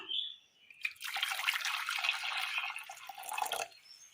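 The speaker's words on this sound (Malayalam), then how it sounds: "അടുപ്പത്തൊരു ചട്ടി വെച്ച് കൊടുത്ത് അല്പം വെള്ളം ഒഴിച്ചു കൊടുക്കാം" Hot water pours into a cooking pot on a stove in a steady splashing stream for about three seconds, close by, then stops abruptly, with a brief drip before it begins.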